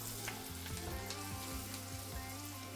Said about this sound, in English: get the onions in there and let them saute down a little bit